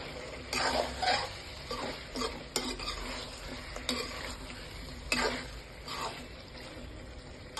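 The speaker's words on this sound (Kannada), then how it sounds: "ಆಗಾಗ ಹೀಗೆ ತಿರುಕೋತಾ ಇರಿ, ಇಲ್ಲಾಂದರೆ ತಳ ಹಿಡಿದು ಬಿಡುತ್ತೆ" A spoon stirs cashew powder roasting in a pan, giving soft scraping strokes in an irregular rhythm with sharper clicks where the utensil taps the pan, quiet and close with no voices.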